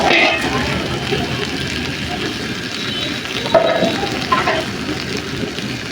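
A spoon stirs a banana and potato curry sizzling in a pan, producing a steady close frying hiss with a few scraping clinks and no talking.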